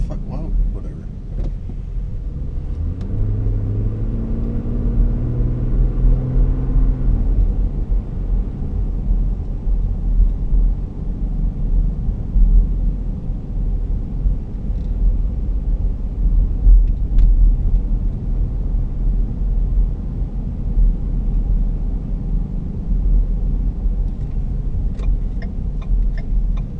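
A 2011 Ford Flex Limited on the move fills the cabin with a steady, close low rumble of road and engine noise, a muffled voice-like hum surfacing briefly near the start.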